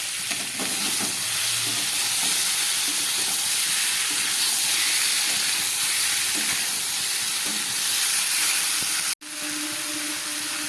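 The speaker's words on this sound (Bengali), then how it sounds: "এবার এই সিদ্ধ করে রাখা কচুরলতিটা আমি এর মধ্যে দিয়ে দিচ্ছি।" Boiled taro stolons fry in spice paste with a steady, close hiss and sizzle, and a utensil stirs now and then. The sizzle cuts off briefly near the end and then quietly resumes.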